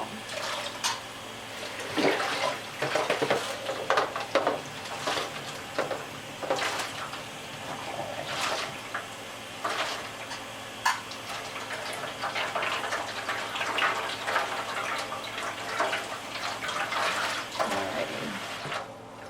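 Water runs and splashes steadily close by as dyed cotton yarn is rinsed under running water, with uneven gushes and spatters throughout a long stretch.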